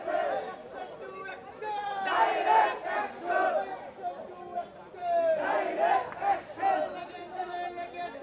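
A crowd chants slogans in front of a rally stage at the Minto Road junction, with many voices rising in rhythmic waves of shouted calls, loud and steady, close by.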